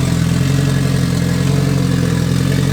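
A 700hp Honda Civic EK engine idles on 93 pump gas with a rich, off air-fuel mix, a loud, close, steady rumbling drone with a fast pulsing throb and no talk.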